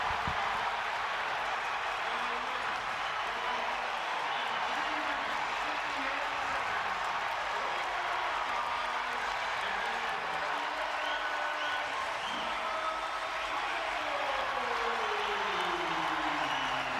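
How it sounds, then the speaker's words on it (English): A packed arena crowd at a Penn State versus Ohio State college wrestling dual meet roars steadily, a broad continuous cheer with scattered applause holding at high level the whole time. "this crowd goes crazy for McCrone"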